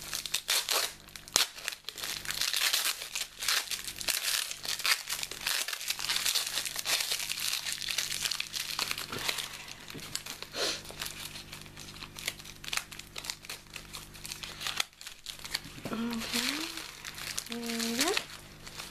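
Crinkling and tearing while a heavily taped-up package is unwrapped, heard as continuous close crumpling, ripping and rustling throughout, with people talking over it.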